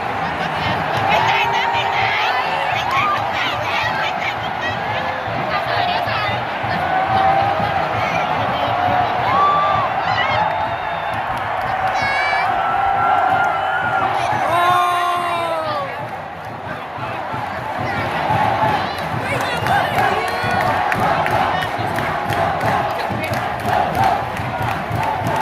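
A large cheering squad at a National Day sports match between Luang Prabang and Champasak chants and cheers together, a dense, continuous crowd roar with whoops and rhythmic shouts, loud throughout with a brief dip midway.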